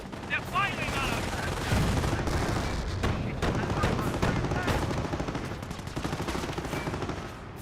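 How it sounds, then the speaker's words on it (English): Rapid gunfire and bursts of machine-gun fire from the video game Company of Heroes, dense and continuous with overlapping shots and impacts, mixed with game effects and a voice speaking over the battle. "Our position is under fire."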